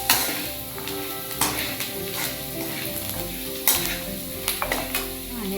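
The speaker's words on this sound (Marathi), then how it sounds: "हळद पूड घालून मिक्स करून घ्यायचं." Turmeric powder gets stirred into fried onion and peanuts in a hot pan. A continuous sizzle carries close scraping and clinking strokes of a spoon against the pan.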